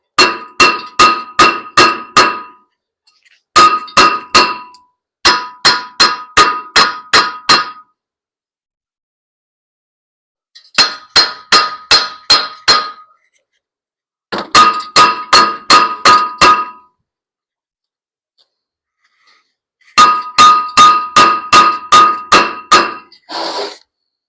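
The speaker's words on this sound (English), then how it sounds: "That's calling for a bigger hammer." A bigger hammer pounds a stuck brake rotor on a Mitsubishi Eclipse GST in repeated bursts of five to eight fast, loud, ringing metallic blows, separated by short pauses.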